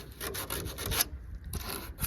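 Sandpaper rubbed by hand over an original Karmann Ghia dashboard with surface rust and old paint, giving a close, rhythmic rasping scrape in several quick back-and-forth strokes.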